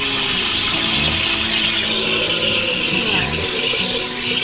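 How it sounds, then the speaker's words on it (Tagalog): Tap water runs steadily into a cooking pot in a home kitchen, a loud continuous splashing rush that fills the whole moment, with faint voices behind it. "Lagyan mo na ng tubig."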